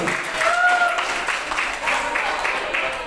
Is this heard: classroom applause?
yes